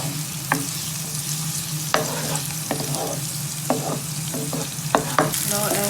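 Chopped onions frying in a pan while being stirred, a steady close sizzle punctuated by irregular scraping and clinking strokes of the spoon against the pan.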